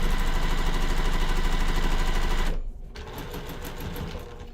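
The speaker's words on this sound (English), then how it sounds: "I do sew pretty quickly, and then I'll slow down when I get to the pin," A sewing machine stitches fast over pinned fabric, its rapid mechanical whir running steady and close, then slowing and dropping after a brief pause into a lighter, quieter stitching rhythm.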